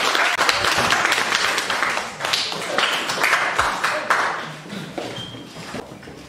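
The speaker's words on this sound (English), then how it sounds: "Please clap for her." A maths contest audience claps for a top-scoring student. The clapping is a busy, sustained patter of many hands with sharp individual claps standing out, fairly close and continuing for several seconds.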